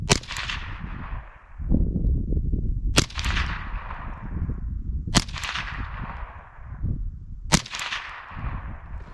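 Four sharp .22LR rifle shots fired with Winchester hyper velocity 40 grain copper-plated hollow point rounds, evenly spaced about two seconds apart, each a loud crack with a short ringing tail outdoors at a range.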